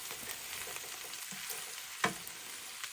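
Cabbage frying in a pan, a steady soft sizzle with scraping stir strokes and one sharper clank of a utensil partway through, fairly quiet and with no talking.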